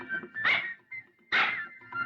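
A dog whimpers in two short, high, strained whines about a second apart, close by, with faint softer whines around them.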